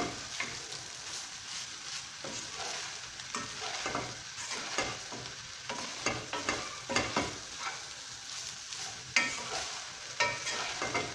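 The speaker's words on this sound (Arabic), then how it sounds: "نخلط الكل مع بعض." Fried rice with vegetables and egg is stirred and tossed in a hot pan. Repeated scraping strokes sound over a continuous close sizzle, with no voices.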